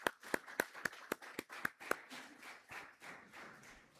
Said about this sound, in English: Just let's clap for them.